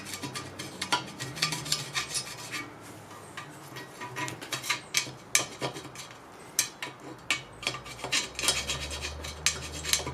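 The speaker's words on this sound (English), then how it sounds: "There is some burrs around the hole, which I'll clean up with this file" Hand file rasping burrs from the edge of a freshly cut hole in an Arlec Enforcer air compressor part, a series of close, uneven scraping strokes with light metallic clinks, no talking.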